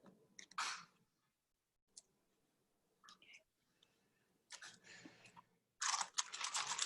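Chocolate chip cookie brittle is broken into pieces close up, with sharp crunches and snaps in short bursts between quiet pauses and a louder run of cracking at the end.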